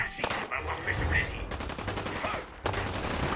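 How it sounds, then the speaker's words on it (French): Rapid machine-gun fire from a Mr. Gutsy robot in the Fallout 4 video game, loud dense bursts of shots that pause briefly near the middle and end, then resume. "Écoutez ses tirs, il est tout seul."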